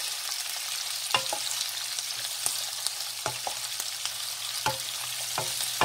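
Korean-style Vienna sausages sizzle steadily in a frying pan while a utensil scrapes and stirs them in irregular clicks and knocks, close and moderately loud with no talking.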